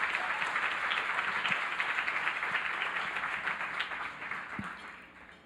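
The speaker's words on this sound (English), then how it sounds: "Can everybody give a big round of applause for these beautiful dance companies?" Audience applause for dance companies at a gala event, a steady broadband patter of many hands clapping that holds throughout and fades slightly toward the end, with no one speaking.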